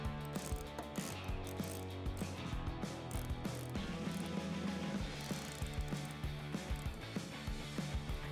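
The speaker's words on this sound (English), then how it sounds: "Now we can reinstall the screws at the back of each side of our trim piece." Ratchet driving screws back into the rear trim piece of a 2014-2015 Chevrolet Silverado 1500 during a headlight install, with steady rapid clicking throughout, close and fairly loud.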